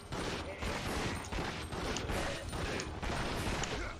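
Steady, dense gunfire from the PS2 survival horror game Resident Evil Outbreak File #2, forming a continuous rattling barrage at moderate loudness with no speech.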